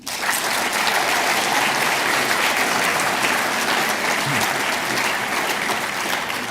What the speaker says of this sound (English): I mean, you're clapping now